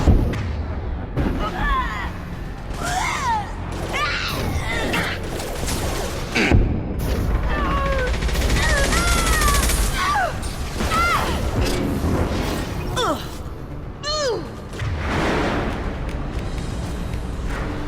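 Weapons fire in the Mass Effect 2 video game, with repeated bursts and booms layered over a dense, busy game soundtrack, and a voice speaking now and then over the action.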